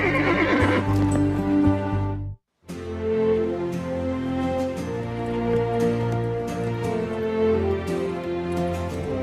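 A horse whinnies and neighs loudly and nearby, several calls in a row with a short break of silence, and faint hoof clatter comes through the cries.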